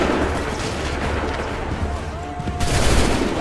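Musket volleys boom continuously in an Assassin's Creed 3 battle, a loud, dense wash of gunfire with no clear gaps.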